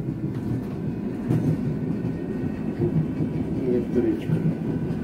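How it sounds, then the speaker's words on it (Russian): Heard from inside the last car, an electric commuter train rolls along with a continuous low rumble and faint rhythmic clatter of wheels on the rails. "Электричка."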